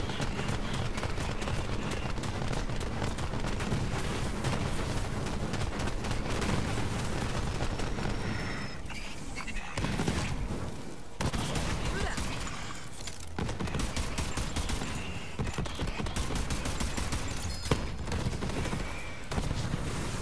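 Rapid gunfire from the Iron Bear mech in Borderlands 3 pounds out in dense, loud bursts. Brief gaps fall between volleys amid game noise.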